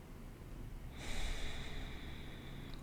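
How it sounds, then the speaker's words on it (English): A single deep breath drawn in during guided meditation, a soft airy inhale that swells about halfway through and holds steady, close and quiet, no talking. "Take some deep breaths."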